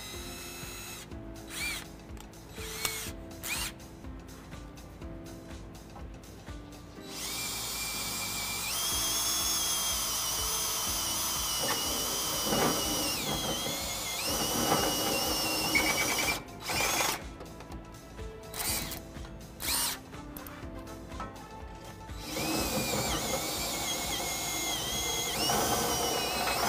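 A power drill with a reamer bit enlarges a pilot hole to half an inch while fitting a front-mount trailer hitch to a 2017 Ram 1500, whining in long sustained runs broken by short bursts and pauses.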